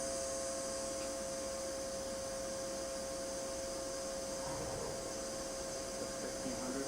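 Spindle of a Milltronics VM16 CNC vertical milling machine with a BT40 spindle turning at 1500 RPM, a steady faint whine with a constant tone over continuous machine-shop hum.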